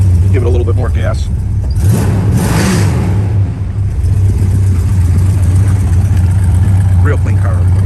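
A 1970 Chevy Chevelle SS 454 sits at a car show, its engine thrumming steadily at a loud idle, with a brief rise in revs near the start, while people talk nearby.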